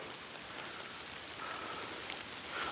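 Steady rain pours during hurricane rain bands, a dense, even hiss of drops close by, with no voices over it.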